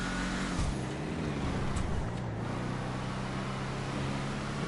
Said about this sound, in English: Goddamn gigantic ass garbage truck in the way now.